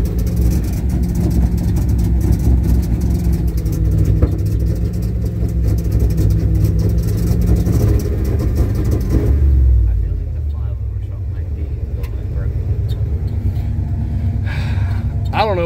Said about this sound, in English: What's it sound like limiter to the floor?